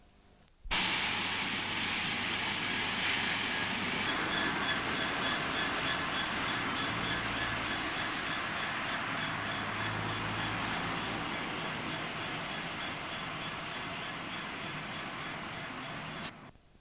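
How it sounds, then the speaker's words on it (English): Freight train of empty stone hoppers bound for limestone quarries, rolling past at lineside near Sheffield: a loud, steady rumble and clatter of wagons that holds for about sixteen seconds, heavier at first, then cuts off abruptly. "Empty stone hoppers heading for the limestone quarries at Peak Forest"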